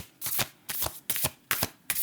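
Tarot cards shuffled by hand in five quick riffling bursts, each a crisp papery flutter separated by short pauses, close and fairly loud with no talk.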